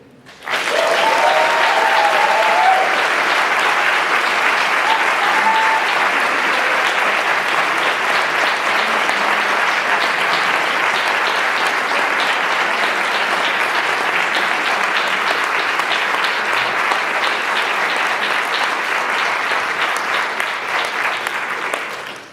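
Sustained, full audience applause at a lecture welcoming Thomas King, loud and even for about twenty seconds before tapering off at the end.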